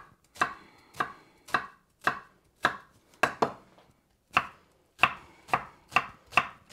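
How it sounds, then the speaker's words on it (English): A knife chops an onion finely on a cutting board, about a dozen crisp, evenly spaced thuds close by, each strike followed by a short ringing decay, with no talking. "We are going to chop this as fine as we can get it."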